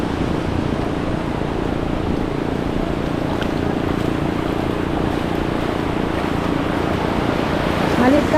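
Steady, loud sea surf and wind rushing around a small, low fishing boat in choppy water, a continuous broad roar without pauses.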